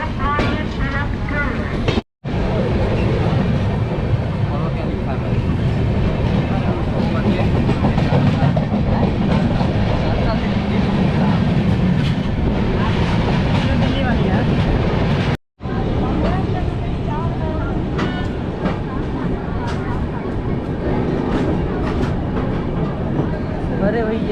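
The Vaishali Express passenger train runs along the rails between Samastipur and Barauni Junction, a loud continuous interior rumble with rattling, heard close up and broken by two brief silent cuts.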